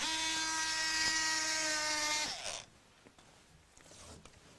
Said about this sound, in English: not when you own the Aris electric wallpaper trimmer